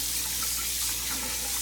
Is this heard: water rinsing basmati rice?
yes